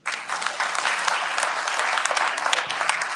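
Lively audience applause at a county candidates forum, many hands clapping close and dense with scattered sharper claps, sustained steadily for the whole stretch.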